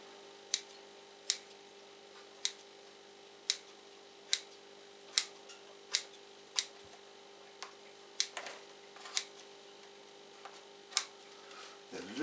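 Small scissors snip dry bits off live moss used for growing orchids, about fifteen crisp, close clicks spaced roughly a second apart against a quiet room hum.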